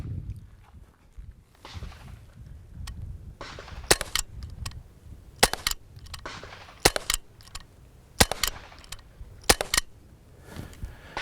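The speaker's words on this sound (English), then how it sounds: "Okay, I got 5 shots on target there." A replica Glock airsoft pistol fires biodegradable BBs at a target outdoors, giving sharp, close single pops spaced a second or more apart, roughly a dozen shots with quiet handling noise between them.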